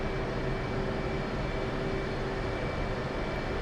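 An F/A-18C jet in the DCS flight simulator taxiing, a steady loud engine whine and rumble with a constant high tone, unchanging and close, with no talking.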